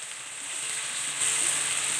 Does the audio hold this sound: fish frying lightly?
yes